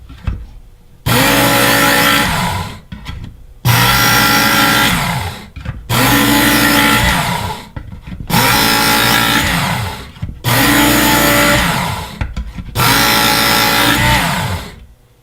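A Work Sharp belt sharpener grinds a fillet knife in six loud, steady bursts of motor whine and belt rasp, each lasting about two seconds and separated by short pauses as passes are repeated.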